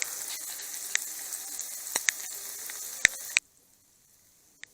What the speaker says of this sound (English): this has been frying for a few minutes, maybe 2 minutes